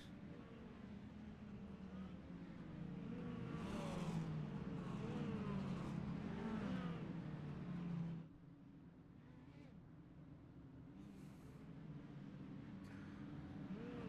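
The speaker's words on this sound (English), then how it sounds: "As they come down the back straightaway, Massey up on the high side here" Mini stock race cars circling a track, engines rising as they pass close and fading away, with a second wave of engine noise building afterward while a commentator talks over it.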